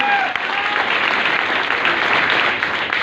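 Dense, steady applause from a large audience fills a business meeting hall, continuous clapping throughout with no pauses and no voices rising above it.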